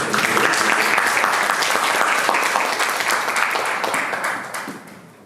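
Forum audience welcoming a startup CEO with applause, loud, dense clapping from a full room that holds steady and then fades out near the end.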